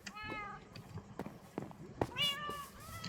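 Several house cats meowing, rising and falling mews close by with a longer drawn-out meow near the end, mixed with footsteps and light handling noise.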